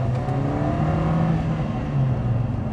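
A Lotus Emira Turbo engine revs on the street, a loud, steady droning engine note that rises slightly and holds for a few seconds.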